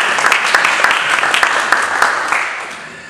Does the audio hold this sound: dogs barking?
no